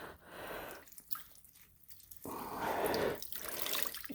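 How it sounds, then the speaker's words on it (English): A wet buffing pad soaked in mop water is wrung out by hand, giving close, soft dripping and squishing of water, quiet and with no talk. "Wring this out."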